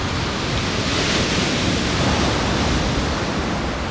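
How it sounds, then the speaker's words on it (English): Strong winter storm wind and crashing surf roar together in a dense, continuous wash of noise along the Port Phillip Bay shore, with no voices. "Fierce storms and winds lash the coastline."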